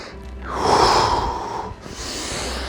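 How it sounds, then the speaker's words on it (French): Deep breath drawn in and then blown out during a morning warm-up exercise routine, a close, loud rush of air rising and falling once, followed by a softer breathy exhale. "J'inspire et je souffle."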